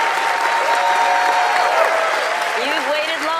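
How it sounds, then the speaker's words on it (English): A studio audience at the Las Vegas magic show Penn & Teller: Fool Us gives loud, sustained applause. Cheers and whoops ride on top of a steady roar of clapping. "Give him another warm round of applause."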